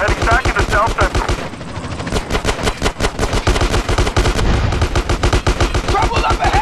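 Rapid automatic gunfire in GTA San Andreas, dense bursts of close, loud shots in a fast steady rhythm that continue almost without pause, with brief talking mixed in.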